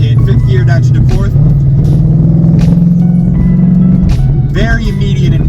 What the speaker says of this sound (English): we're at about 1700 RPM in 5th gear down to 4th